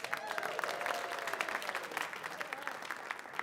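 An audience at the CONvergence 2021 convention applauds with a dense, crackling burst of clapping that keeps going steadily throughout, heard from a moderate distance.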